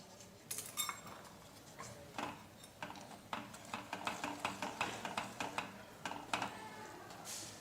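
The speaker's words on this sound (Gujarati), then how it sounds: "આ રીતે કન્ટિન્યુ ચલાવતા આપણે છથી સાત મિનિટ માટે લોટને શેકીને તૈયાર કરવાનો છે" A metal spoon stirs amaranth flour roasting in hot ghee in a pan, making repeated scrapes, clinks and taps on the metal in an uneven rhythm, close and moderately loud.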